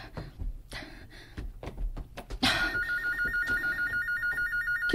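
A telephone ringing with a steady repeating electronic ring that starts midway and continues, following a few knocks and thuds.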